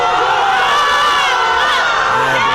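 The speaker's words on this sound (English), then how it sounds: "The crowd's happy with that." Loud, dense crowd cheering and shouting at a powerlifting meet after a big lift by a young lifter, a sustained roar of many voices with high whoops throughout.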